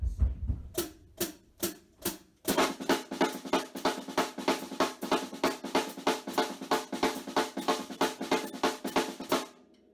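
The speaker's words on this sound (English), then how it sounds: "the placement of the grandma on the snare drum sounds like this." A snare drum plays a few spaced single strokes, then breaks into a fast, steady, continuous stream of crisp grandma rudiment hits with accented patterns, close and clear.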